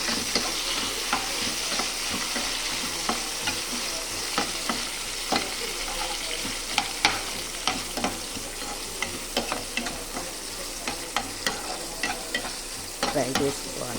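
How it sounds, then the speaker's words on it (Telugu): Green chillies and onions fry in hot oil, a constant loud sizzle with regular scraping clicks of a spoon stirring the pan throughout. "దీనికి కావాల్సిన పచ్చిమిర్చి, ఉల్లిపాయలు ఇవన్నీ వేసిన దీన్ని మంచిగా ఫ్రై చేసుకోవాలి."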